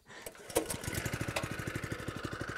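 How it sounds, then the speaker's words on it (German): Just after a pull start, a Camon LA25 petrol lawn aerator's small engine settles into a quick, even putter at close range, with a steady, fairly quiet running note. "ich finde ihn echt mega leise für einen Benziner"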